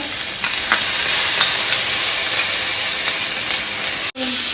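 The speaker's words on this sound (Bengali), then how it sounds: "তেল গরম হয়ে গেছে, পেঁয়াজ কুচি, অল্প পেঁয়াজ কুচি দিয়ে দিলাম।" Chopped onion and tomato sizzle in hot oil for an egg curry, a loud continuous frying hiss with faint stirring scrapes, broken by a brief dropout near the end.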